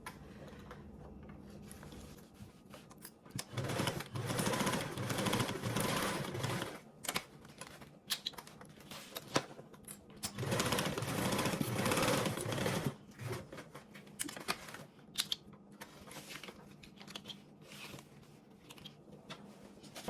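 A sewing machine bastes two fabric panels together, running in quick rattling bursts of stitching separated by short pauses, fairly close and with no talking.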